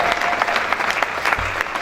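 A church congregation applauds steadily throughout, a dense continuous wash of clapping with no break and no voices above it.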